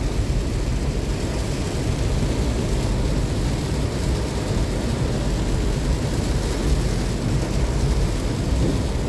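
Steady heavy rain pours down outdoors, a dense continuous hiss with low rumbling underneath and no voices, uniformly loud for the whole stretch.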